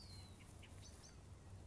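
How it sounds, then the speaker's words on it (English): Faint outdoor birdsong with a few thin chirps and whistles rises over a steady background hum, with no other sounds standing out. "And the birds, I hope you can hear them in the background"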